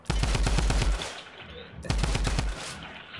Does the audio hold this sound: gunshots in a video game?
yes